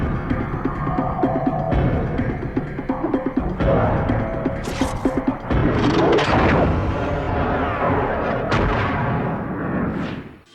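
Gunfire rings out in a Hindi-dubbed action film, sounding as a string of loud, close bangs and heavy booms over a rumbling, dense soundtrack. Sharp bursts repeat irregularly before the sound cuts off.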